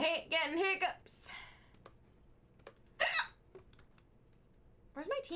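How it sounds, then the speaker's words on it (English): A woman hiccups during an online video game session, with a few sharp, loud hiccups spread across the clip, interspersed with brief vocal sounds and faint background clicks. "I hate getting hiccups."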